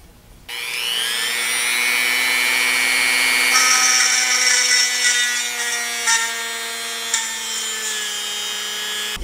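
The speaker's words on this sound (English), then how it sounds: "We're going to attempt to drill a hole in the bottom of this." A power drill bores a hole into the bottom of an object while building a root beer stand. The motor whine holds steady and close for about nine seconds and shifts slightly in pitch as the bit bites. No one speaks.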